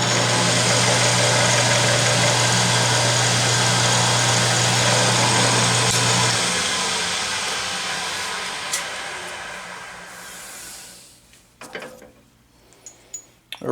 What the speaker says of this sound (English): And I'm going to spot drill it.